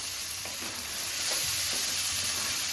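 Coriander being stirred into a kurdai and onion curry in a pan, with a steady sizzling hiss of frying and a few soft spoon scrapes spread through the short stretch.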